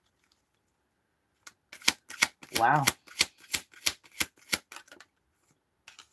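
Tarot cards being shuffled in quick bursts, a string of crisp riffling snaps with one longer flutter, close and clear against near silence, with a brief spoken exclamation mixed in.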